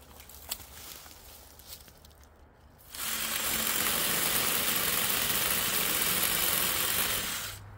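A drill-powered chainsaw starts after a quiet opening with a few faint knocks, then runs loud, steady and buzzing for about five seconds before cutting off near the end.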